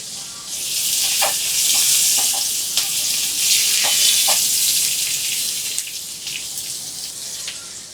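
Onion and sliced green chili frying for a bitter gourd bhaji, giving a loud, steady, hissing sizzle close up, with a few faint clinks and stirring taps over it and no voices.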